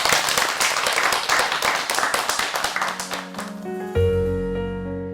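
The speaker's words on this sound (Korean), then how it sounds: "오늘 이 모임을 함께 해주셔서 감사드리는 큰 박수로 오늘 마치겠습니다" Applause from a gathering at a house church meeting, a burst of quick hand clapping that fades out after about three seconds as sustained music tones take over.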